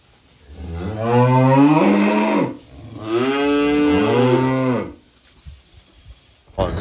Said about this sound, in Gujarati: આ ગાયો